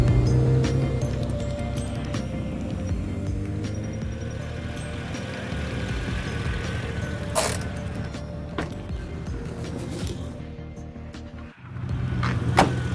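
Ferrari 330 GTC with its 4-liter Colombo V12 being driven: a steady, dense engine drone holds for most of the stretch, briefly dips near the end, then picks back up.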